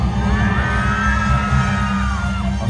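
A crowd at a live Minnan traditional arts stage show screams and cheers continuously, with high whoops and yells riding over a steady, heavy low-pitched musical backing.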